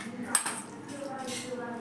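Washed chicken pieces set one by one onto a metal plate, faint clinks and soft metallic taps over a quiet kitchen background.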